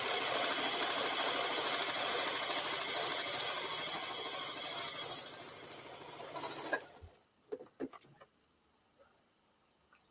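A Brother sewing machine runs steadily up close, a dense rapid mechanical whir lasting several seconds before stopping abruptly, followed by a few faint clicks and knocks in near silence.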